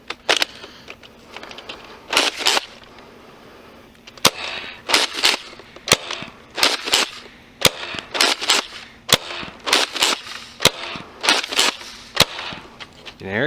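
A Nerf Rival Atlas shotgun blaster fires foam balls, a series of sharp, loud pops spaced about a second apart, some doubled, with faint handling noise between shots.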